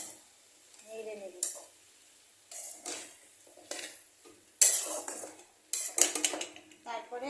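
A spoon stirs sweetener into green jackfruit curry in a pan, giving a few bursts of scraping and clinking separated by quiet pauses, with a faint murmur near the start.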